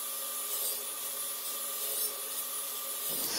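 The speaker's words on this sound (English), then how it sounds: "the only thing I can do is use a table saw to cut the wheels" A table saw cuts wooden wheels for a gypsy caravan, giving a steady, fairly faint hissing, rasping wood-cutting noise that continues throughout.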